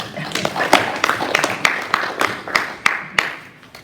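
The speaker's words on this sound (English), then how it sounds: "So give all of yourselves a round of applause." A church congregation gives a round of applause for themselves after a potluck Sunday, a loose scatter of nearby hand claps with uneven rhythm that gradually thins out.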